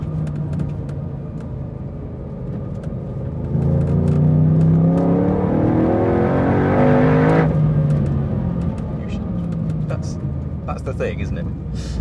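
The engine of a Smit Vehicle Engineering Oletha, a BMW Z4 restomod, drones from inside the cabin, then swells into a strong rising rev for a few seconds before easing back to a steady hum.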